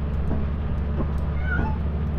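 A cat meows in the video game Lethal Company, a few short, faint meows spread across a steady low background hum, with no talking.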